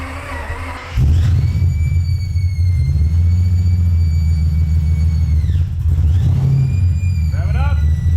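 A supercar-engined Ford Mustang fitted with Pipes Race Pro mufflers fires up and holds a loud, steady exhaust rumble heard from behind the car, with a brief dip and a second rev near the end.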